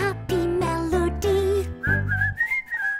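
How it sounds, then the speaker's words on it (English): A cheerful whistled melody from a children's cartoon counting song, clear and bright, with steady notes over a backing of musical accompaniment. "whistling a happy melody"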